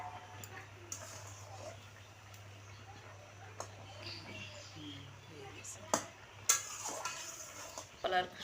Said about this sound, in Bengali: আমি এবার থালাটা তুলে নিয়ে দেখি কেমন সেদ্ধ হয়েছে খোসা